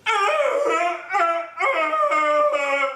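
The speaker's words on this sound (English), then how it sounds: "Apparently there's a dog." A dog howls loudly and close in long, wavering, mournful tones, three drawn-out howls rising and falling over about three seconds with no other sound.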